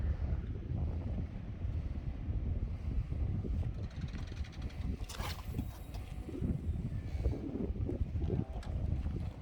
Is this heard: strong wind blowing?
yes